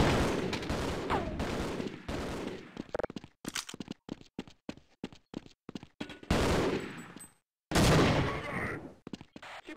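Rapid gunfire bursts in the video game Half-Life, loud close shots in irregular volleys with short gaps between them.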